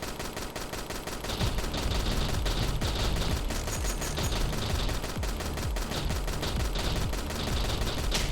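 Rapid automatic gunfire in a first-person shooter video game, dense continuous bursts of shots crackling loudly and nearly without pause for several seconds.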